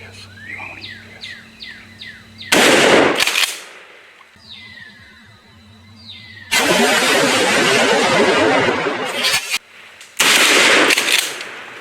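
Shotgun blasts at coyotes in open country, several loud close reports with long ringing decays separated by quieter stretches filled with high electronic calls, birdlike chirps and murmured voices.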